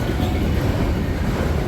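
A CSX freight train with SD60 locomotives in the consist, though not at the lead, rolls past close by on a New York Central line in New York State, making a loud, steady rumble and rail roar.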